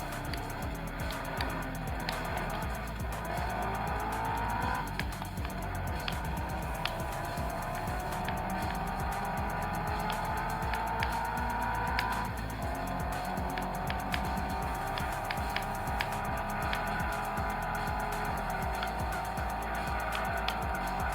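Racing cars drone through Gran Turismo 2 running on a PS1 emulator, with continuous engine whine shifting pitch through gear changes and occasional tire squeals, steady and moderately quiet throughout.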